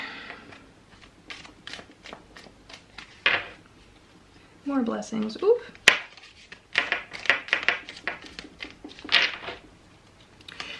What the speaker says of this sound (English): I get really nervous shuffling on camera for some reason.